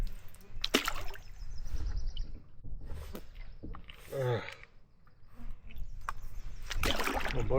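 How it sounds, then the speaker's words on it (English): A canoe paddled on a lake in spring, with paddle strokes and water swishing and splashing against the hull in uneven bursts, close by. A voice and faint bird calls are heard in the background. "I'm going to throw my canoe in the lake and just go up for a paddle"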